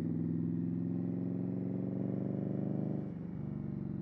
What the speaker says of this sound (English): This exhaust is pretty loud